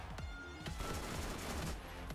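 Rapid automatic SMG fire in the Borderlands video game, dense bursts running continuously through the clip at steady loudness with game effects underneath.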